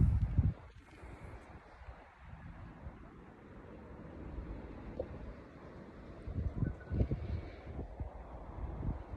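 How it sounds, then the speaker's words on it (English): Wind gusts on top of a hill, a soft rushing roar that rises and falls, with a few low buffeting thumps against the microphone toward the end. "Well, that's pretty windy."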